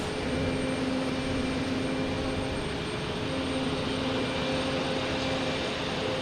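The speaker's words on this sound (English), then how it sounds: "Here comes the Aer Lingus." An Aer Lingus airliner at Boston Logan Airport gives off a steady, even jet engine roar with a faint whine, continuous and moderately distant, with no voices.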